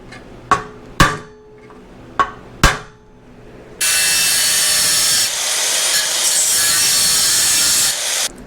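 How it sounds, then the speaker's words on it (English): Tool cutting tack welds off a roof rack nut, opening with four sharp metallic knocks, then a loud continuous grinding or cutting noise that runs steadily to the end, with no voices. "So I just cut the tack welds off the nut completely."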